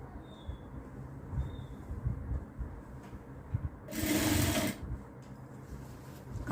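A sewing machine stitches saree fabric lining for a child's long frock. A low background hum gives way to one short, loud burst of whirring stitching, then falls quiet again.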